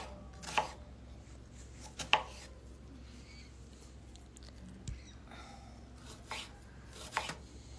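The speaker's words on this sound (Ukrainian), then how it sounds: "І так, цибульку дрібненько нарізаємо." An onion is finely chopped with a knife on a board in a home kitchen: about six sharp, well-spaced knife strikes, close and moderately loud over quiet room noise, with no talk.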